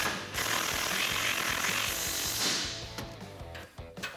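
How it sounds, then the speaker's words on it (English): An 18mm wrench and 19mm socket tighten a nut on a Barricade HD rear bumper on a 2019-2021 Silverado or Sierra 1500, probably with a power tool, heard as a loud, continuous rapid hammering rattle close by that tapers into a few final clicks. "Go ahead and grab your 18mm wrench and 19mm socket to tighten it down."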